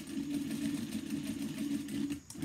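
A sewing machine stitches around the flap corners of a fabric handbag, giving a steady, moderately loud mechanical hum and whir up close that runs without a break for about two seconds.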